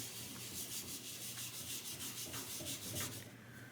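A rag rubs linseed oil into a dry guitar fretboard on a Les Paul copy, giving a quiet, steady swishing with rhythmic strokes over a faint low hum and no speech.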